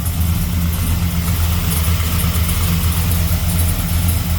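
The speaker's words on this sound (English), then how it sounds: "it's got a couple of exhaust leaks" A blueprint 454 small-block Chevy V8 in a Holden Kingswood idles with a low, throbbing rumble and a ragged puffing edge from exhaust leaks, loud and close, steady throughout.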